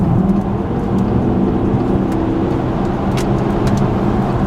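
A 450-horsepower car accelerating hard to overtake a truck, a loud, steady engine roar with road and wind noise heard from inside, without talk.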